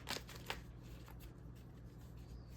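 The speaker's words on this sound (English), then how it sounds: "Let's pull a couple of tarot cards out and see." Tarot cards shuffled at close range, a soft, quiet riffle with a couple of sharper flicks near the start and then an even papery rustle, no talk.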